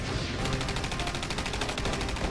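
Sustained automatic M16 rifle fire in close combat involving Rangers in Somalia, a fast, evenly spaced rattle of shots over loud, dense battle noise that fills the whole stretch.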